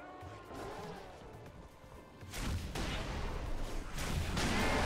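Brute Shot grenade launcher from Halo 3 fires heavy booming blasts, with a quieter stretch of battle noise first, then loud explosive bursts that carry through to the end.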